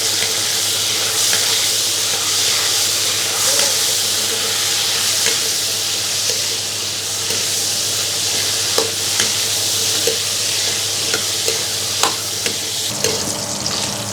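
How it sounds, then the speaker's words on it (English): Cinnamon stick, star anise and coriander root frying over low gas, giving a steady loud sizzle with occasional light stirring clicks of a utensil in the pan throughout, and no voices. "cinnamon stick and star anise, and coriander root. And we fry with a low gas until you get a nice smell."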